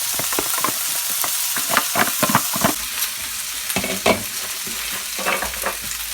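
Close, busy frying sizzle of bacon lardons with repeated sharp scrapes and clacks as they are stirred around a hot wok; no talking.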